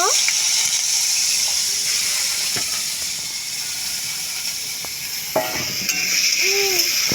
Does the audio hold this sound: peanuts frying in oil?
yes